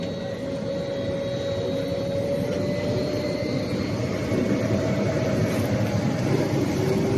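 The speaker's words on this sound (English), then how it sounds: "That machine is flattening the surface of the road." A road roller compacting fresh asphalt, a steady loud diesel engine drone with a low rumbling throb and a faint tonal whine, continuous and close, with no voices.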